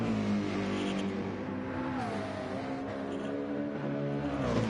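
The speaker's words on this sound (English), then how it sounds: "now we've got these fantastic engine sounds" A race car engine in the video game Gran Turismo howls continuously, loud and close, its pitch sweeping up and down with throttle changes and gear shifts, with no pauses.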